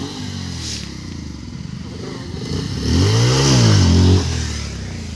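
Motorcycle engine revving hard during wheelie stunt practice, a close, loud rise and fall in pitch as the throttle is opened and released, with rumbling idle before it and a little background talk.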